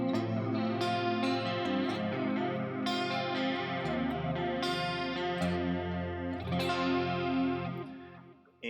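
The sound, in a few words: clean electric guitar tone through Line 6 Helix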